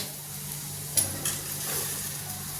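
Turmeric and coriander-cumin powder being stirred in a frying pan, a soft steady sizzle with two brief scraping knocks of the spoon early on, close and fairly quiet with no talking.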